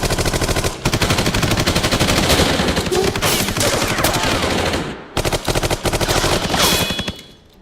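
Sustained heavy gunfire from soldiers in a Punjabi film battle scene, rapid automatic bursts rattling loud and close, broken by a brief gap near the start and another pause before the firing resumes.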